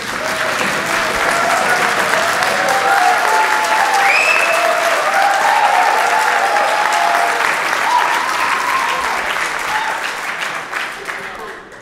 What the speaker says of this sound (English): when you say their name and they start clapping, you cannot say anything.